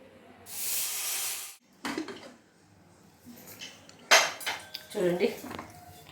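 Tamarind leaves being lifted out of their washing water and strained, a burst of pouring, splashing water followed by clinks and scrapes of a metal vessel and scattered wet handling sounds, close by and without talk.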